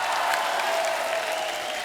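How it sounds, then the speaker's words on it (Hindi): A television comedy talk show's studio audience breaks into loud, dense applause to welcome guests, a steady roar of many clapping hands through the short stretch. "जोरदार तालियां हमारे मेहमानों के लिए।"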